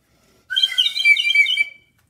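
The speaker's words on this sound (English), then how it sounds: "we should blow our slide whistle" A slide whistle is blown once for about a second and a half, giving a bright, wavering tone that stays close and loud with no talk over it.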